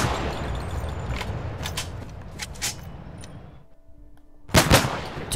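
Gunfire from a gun in the Minecraft Flans Mod, heard as a few sharp, bright cracks spaced irregularly over a hiss of background noise, with a final louder double shot near the end.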